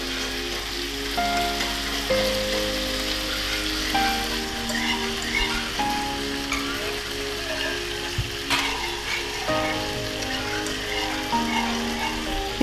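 Thickening sauce sizzles in a pan as it is gently stirred, a continuous soft crackle with faint scraping throughout.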